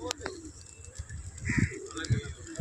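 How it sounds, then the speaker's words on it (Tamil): A flock of pigeons gathered on Marina Beach in Chennai, soft repeated cooing and chirps close by over an outdoor background, with someone speaking over them. "மெரினா கடற்கரையில் புறாக்கள் கூட்டம்"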